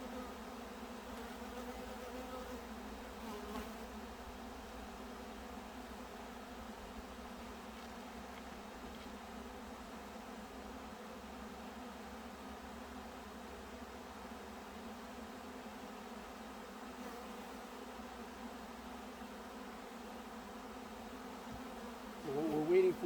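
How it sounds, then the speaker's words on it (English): Honeybees fan their wings near a hive entrance while a new colony is being added, producing a steady, close, continuous buzzing hum that lasts throughout with little change. "They're all fanning because they found the queen and smell her, so they're telling everybody where to go."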